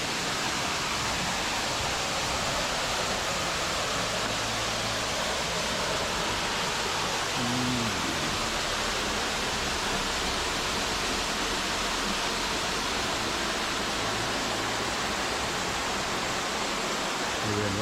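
A constant roaring rush of falling water at Saeng Chan waterfall, loud and unbroken, with a faint low murmur beneath it.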